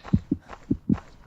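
Heartbeat sound effect in the Jeff The Killer horror video game, four soft low thumps grouped in two double-beat pairs, a steady lub-dub rhythm, fairly faint.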